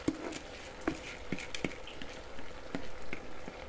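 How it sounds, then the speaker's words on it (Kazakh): Carrots and meat fry in a pot as washed rice is added, giving a sizzling crackle with scattered sharp clicks and patters from stirring, close and moderately loud, with no talking. "Енді оған 2 кесе жуылып тұрған күрішімізді саламыз."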